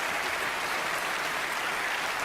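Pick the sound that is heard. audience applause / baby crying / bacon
audience applause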